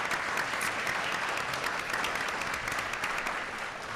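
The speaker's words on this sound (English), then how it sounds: "So if you can give them all a round of applause." An audience at a leadership and philanthropy event applauds the sponsors with dense, sustained clapping that stays even throughout, with no talk over it.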